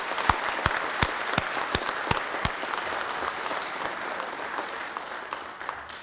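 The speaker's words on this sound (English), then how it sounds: "A little round of applause." Steady applause from an audience at a university leadership awards ceremony, with several sharp, close, rhythmic claps standing out early over the sustained crowd clapping.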